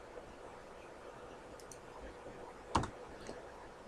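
Mouse clicks while working in 3D modelling software, one sharp, close click standing out near the end against a quiet room background, with a few faint ticks around it.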